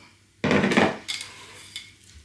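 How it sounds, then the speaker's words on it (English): A utensil scrapes around a bowl of spotted dick pudding batter in a kitchen, one loud sustained scrape followed by a few lighter, shorter scrapes close by. "Scrape that bowl."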